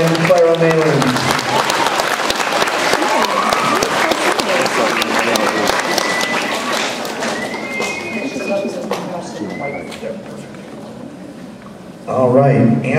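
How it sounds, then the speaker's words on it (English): Audience at a school spelling bee applauding two contestants: a long round of clapping from a crowd in a hall, mixed with murmuring voices and a few excited squeals, dying down before a voice speaks at the end. "let's have a round of applause for Matthew So and Clara Malin"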